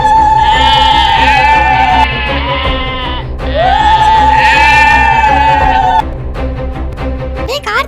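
Two goats at a village temple sacrifice festival let out two long, loud, wavering bleats one after the other, heard up close over a low background hum.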